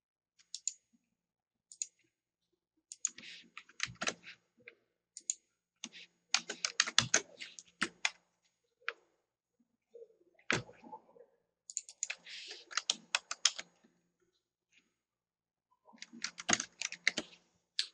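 A computer keyboard clicks in quick irregular bursts of typing as a worksheet is renamed in a spreadsheet, with quiet pauses between the runs of keystrokes and no voices.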